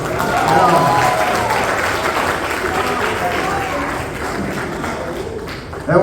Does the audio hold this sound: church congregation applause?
yes